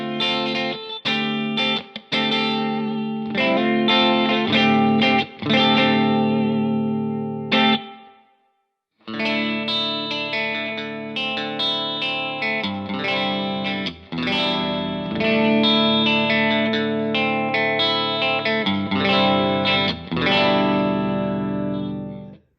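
An electric guitar plays through a Jackson Audio New Wave analog chorus and vibrato pedal, giving shimmering, wavering chords and notes that run continuously apart from one brief silent gap.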